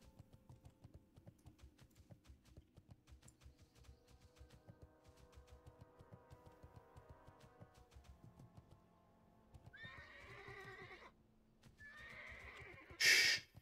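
In the World of Warcraft video game, hooves clip-clop steadily under soft keyboard typing, then a horse neighs twice and snorts loudly near the end.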